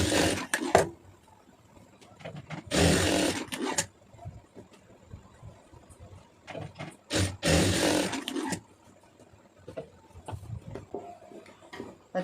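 A sewing machine stitches a blouse along a marked line in two short, loud bursts of running, separated by quieter handling knocks, with no talking.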